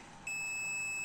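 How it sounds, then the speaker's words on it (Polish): A Chinese parallel charging board for batteries lets out a sudden steady electronic beep that begins a moment in and holds clear and fairly faint to the end, with no voices. "Tu była podłączona i tu pika, pika, pika."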